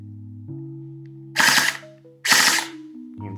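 An airsoft gun's gearbox cycles on full auto in two loud mechanical bursts of rapid clattering, each about half a second long, separated by a steady motor-like hum.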